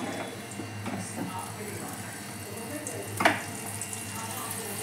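Butter sizzling in a hot pan while cooking dabeli: a steady, moderate frying hiss with one brief louder crackle near the end.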